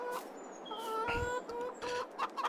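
Several chickens in the video game Farming Simulator 22 cluck and chatter in quick overlapping bursts, with a faint electronic tone beneath, fairly close and steady throughout.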